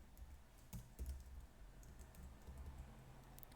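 Keys tapped on a computer keyboard while a Linux firewall command is entered, quiet scattered clicks over a low background hum, with no talking.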